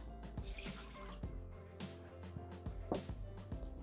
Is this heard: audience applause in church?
no